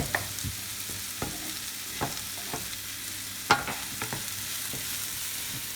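Leek and a whole onion cooking down in a frying pan, a gentle continuous sizzle with light intermittent spoon taps and scrapes, close and quiet.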